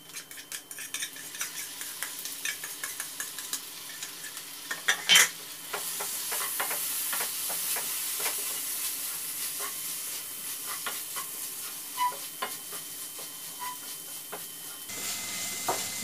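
Onion, tomato and gram flour sauté in oil for capsicum masala, a steady sizzle that grows louder partway through, with frequent spoon scrapes and clinks against the pan.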